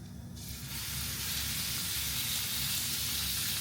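A steak hits a hot pan that is too small for it, and a loud, steady sizzle swells up within the first second and holds close and constant, with no voices.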